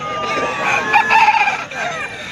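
A rooster at a cockfight crows loudly and close by in a stretched, rising call, with a faint murmur of voices in the background.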